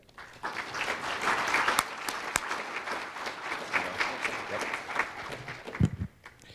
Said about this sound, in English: Let's give a warm round of applause to Craig.